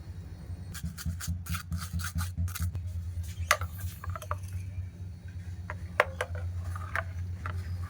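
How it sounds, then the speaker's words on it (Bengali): Raw mango purée, blended with a little water, is pushed through a sieve, giving rhythmic rasping scrapes in quick succession followed by scattered softer scrapes and taps over a low steady hum. "এবার এই পিউরিটা ছাঁকনির সাহায্যে ছেঁকে নেবো"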